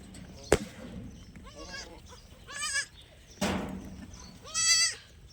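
A goat bleats several times in short, wavering calls spaced a second or so apart, with a sharp knock near the start and quiet background.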